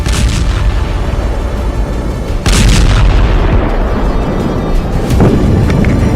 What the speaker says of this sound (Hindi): लेबनान की राजधानी बेरूत में कई शक्तिशाली विस्फोट हुए।